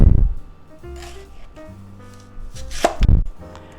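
A knife chops vegetables on a cutting board for a pot roast, giving a handful of close, sharp thunks spread irregularly across a few seconds, with faint handling noise between cuts.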